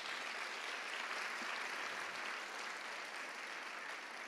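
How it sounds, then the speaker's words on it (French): A large audience at a children's orchestra concert in Guadeloupe applauds in a continuous, even wash of clapping, fairly distant and consistent from start to finish. "Merci Xenia, qui mérite encore vos applaudissements."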